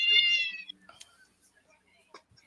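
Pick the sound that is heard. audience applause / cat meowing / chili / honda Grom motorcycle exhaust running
cat meowing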